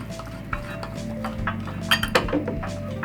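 A spoon stirring a homemade lemon and sandalwood skin paste in a bowl, giving close scraping with light clinks and taps against the bowl's sides over a low steady background.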